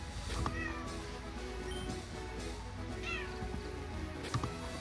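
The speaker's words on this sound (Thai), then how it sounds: "ได้ยินเสียงแมวหรือเปล่า" A cat meows several times, short rising cries scattered over a few seconds against a steady background hum, fairly close.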